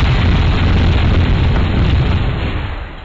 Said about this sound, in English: Rocket barrage.